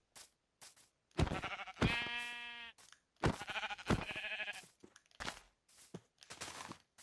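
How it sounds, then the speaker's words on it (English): Sheep bleating in the Minecraft video game, two long wavering bleats among short crunchy footstep-like thuds, clear and close, with no talking. "I'm gonna kill those 2 sheep up there"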